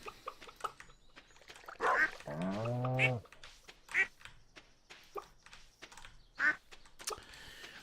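Ducks in the farming game Stardew Valley quack repeatedly in short, clear bursts, including one longer honking run, spaced irregularly over a faint background with soft clicking.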